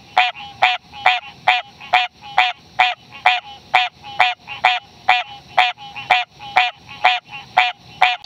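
A green tree frog croaking close by, a loud, regular series of about sixteen sharp honking calls evenly spaced roughly half a second apart, alone without talk.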